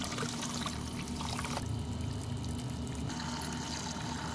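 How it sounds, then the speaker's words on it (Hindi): Water pouring steadily onto a soilless growing brick that swells as it soaks, a close, continuous splashing trickle that shifts in tone partway through, with no voices. "इस पर जैसे ही पानी हम डालेंगे ये एक्सपैंड होता जाता है।"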